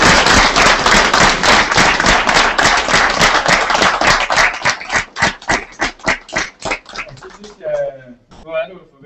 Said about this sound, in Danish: Jeg synes, vi skal give Gry en kæmpe klap